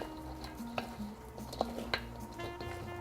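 Cornbread and white bread stuffing is mixed in a bowl, with soft stirring rustles and a few sharp clinks of a utensil against the bowl, close and fairly quiet.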